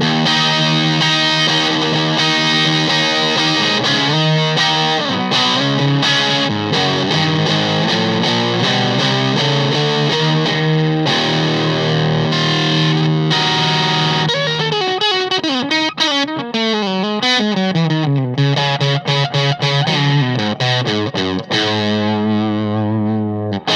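Electric guitar played on the bridge humbucker through a Germaniac MP fuzz pedal by Henning Pauly, loud and continuous with thick distorted chords, then quicker riffing and bends toward the end, alone with no talk.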